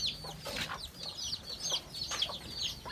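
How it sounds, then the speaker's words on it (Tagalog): Chickens with newly hatched chicks cluck and chatter softly nearby, with overlapping short calls and high peeps over a quiet background. "At ang alaga nating mga manok na may mga kitina"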